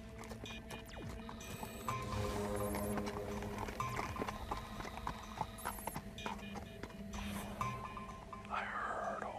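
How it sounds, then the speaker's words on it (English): Hooves clip-clop in a steady rhythm at a distance on a trail near Quesnel, British Columbia, mixed with outdoor ambience and faint bird calls. "I heard a horse. I heard a cluck cluck."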